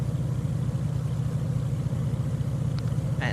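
Propeller engine of a simulated aircraft in Prepar3D running at high RPM with a higher blade pitch angle, a steady droning hum that stays constant and fairly loud throughout, with no talking.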